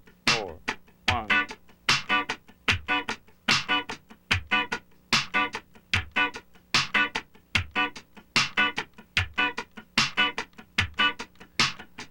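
Muted funk rhythm guitar played in sixteenths with an accented upstroke on the second sixteenth, a crisp, evenly repeating pattern of short percussive strums with a faint low drum pulse underneath.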